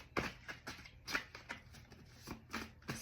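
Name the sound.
shuffling tarot cards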